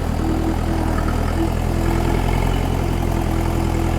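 A Kentavr 504F tractor engine idles steadily and loudly nearby, a constant low throbbing rumble with a mechanical hum and no change in pace.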